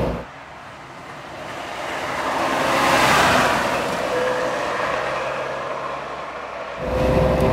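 Trabant 601S classic car driven at full speed, about 100 km/h, on a road in Scotland: steady engine drone and wind-road rush throughout, swelling near the middle and again at the end.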